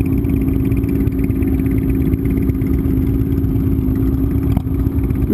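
Cruiser motorcycle engine running with heavy shake, a loud, steady, rough low rumble with a rattling clatter throughout, close by and uninterrupted.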